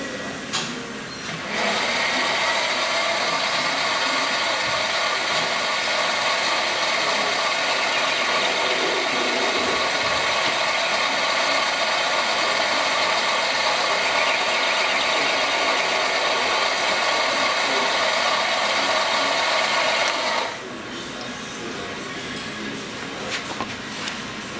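A small drill bores a hole through a bush for a pin on a mini steam engine, a steady whirring mechanical whine lasting nearly twenty seconds before it cuts off, with quieter handling noise before and after.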